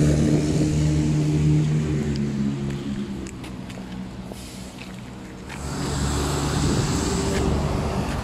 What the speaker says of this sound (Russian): Видно только изредка проезжающие машины